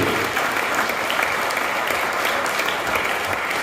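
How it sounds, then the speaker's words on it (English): Audience applause at a housing awards ceremony, a loud, sustained roar of many hands clapping without pause, filling the room evenly from start to finish. "Give them a massive round of applause."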